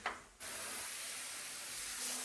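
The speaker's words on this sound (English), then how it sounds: "I'm going to spray my alkaline cleaner." Alkaline cleaner sprayed inside a shower: after a brief quiet start, a steady broadband spray hiss sets in and runs without a break to the end, fairly close and even in level.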